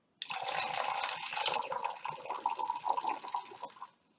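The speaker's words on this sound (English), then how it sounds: "so we'll add a lot more water this time" Water pours steadily into a container for a classroom calming-strategies demonstration, a continuous splashing trickle with small drips that starts abruptly and runs about four seconds, close and clear with no talking.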